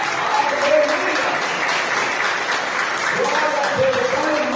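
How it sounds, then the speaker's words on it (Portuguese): Church congregation clapping in praise during a sermon, a steady, fairly loud burst of applause with voices calling out over it. "E a igreja deu uma salva de palmas para o nosso Senhor."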